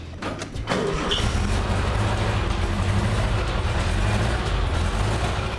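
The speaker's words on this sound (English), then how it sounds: "That's the sound of a 1960 Porsche Roadster." A 1960 Porsche Roadster engine idles with a steady low rumble after a brief start-up, holding a constant drone close by with no voices.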